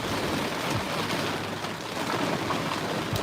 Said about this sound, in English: it sounds like it's raining real hard